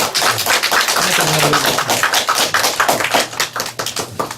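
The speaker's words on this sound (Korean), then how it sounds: "다시 한번 박수로" Applause fills a church ordination service in honor of a retired sergeant major, a dense stream of many hands clapping steadily and loud with a faint voice underneath.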